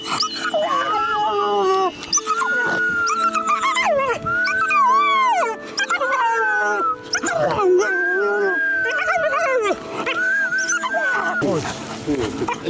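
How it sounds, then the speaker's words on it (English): An excited young wolf in the Altai Mountains yelps and howls in rising, wavering whines and squeals, several bursts in a row, close and loud, with a person speaking at times. "he also had a very excited young wolf"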